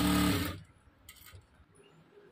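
A sewing machine stitches a prince cut blouse in one brief, loud whirring burst, then stops abruptly and leaves a quiet room.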